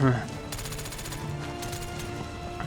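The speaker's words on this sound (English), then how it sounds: "this gun that I'm using is set on rapid fire" Rapid automatic gunfire from the video game SOCOM US Navy Seals 3 comes as a string of quick, evenly spaced shots at moderate volume, with short gaps between bursts.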